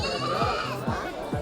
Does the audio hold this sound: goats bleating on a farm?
yes